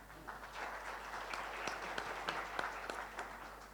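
Audience applause at a finance-sector panel discussion, a steady wash of clapping with scattered sharper claps, moderately quiet and continuous throughout.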